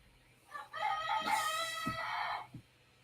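A rooster gives one full cock-a-doodle-doo, a drawn-out rising and falling call lasting about two seconds, fairly clear against a quiet room, with a soft cluck or thump just after.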